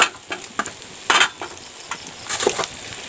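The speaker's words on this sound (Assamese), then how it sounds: "এতিয়া মই জিৰাখিনি দি দিওঁ" Cumin seeds dropped into hot oil crackle in short sizzling bursts, with light spoon scrapes and taps against the pan in between, close and fairly quiet.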